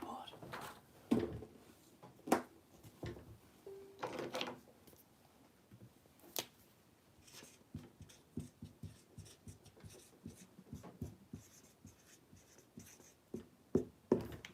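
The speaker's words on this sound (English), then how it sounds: "Yeah, I'll write it on the board." Marker or chalk scratching on a classroom board in short repeated strokes, fairly close, with occasional voices talking around it.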